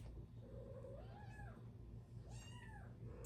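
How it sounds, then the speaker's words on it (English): A kitten cries in two long, rising-and-falling mews while being carried off by a mother cat, heard faintly against a low steady hum in a quiet indoor room. "And the kitten crying."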